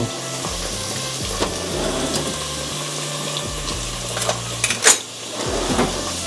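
Chicken sautés with onion and tomato in a pan for a country chicken curry, an even sizzle broken by metal spoon scrapes and pot clanks, close up and without voices.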